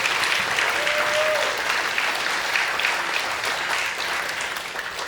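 A full room of audience applause at an awards celebration, dense steady clapping that holds strong for several seconds and eases only slightly toward the end.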